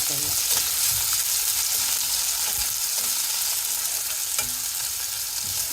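Red onions fry in a pan for a Rayalaseema-style okra dish, giving a close, steady sizzle. Soft spatula scrapes and stirring knocks recur every second or so.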